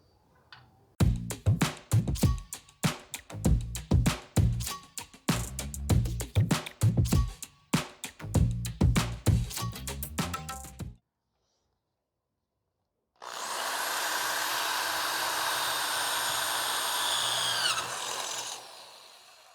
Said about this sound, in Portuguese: Vamos fazer a perfuração agora nesse trilho de alumínio de 2 milímetros.